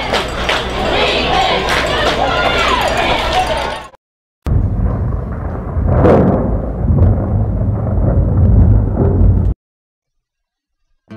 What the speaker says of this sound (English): this crowd is hollering, defense, defense